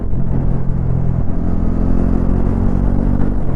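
A 2026 Bajaj Pulsar NS400Z, a 349cc motorcycle, pulls hard through its gears with a loud, steady engine rumble and droning exhaust, heard from the rider's position with heavy wind noise.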